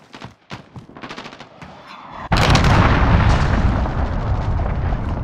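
A Call of Duty Modern Warfare match with a cruise missile strike. Scattered gunshots and pops lead into a sudden massive explosion, followed by a loud, sustained rumbling roar of blasts.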